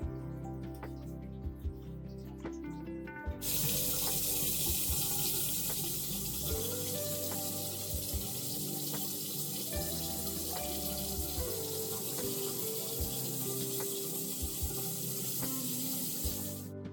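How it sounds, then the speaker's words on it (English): Water runs from a newly plumbed bathroom sink tap in a cabin homestead, a steady loud rushing stream that begins after a few seconds of quieter clatter and continues unbroken to the end. "I could hear the water flowing."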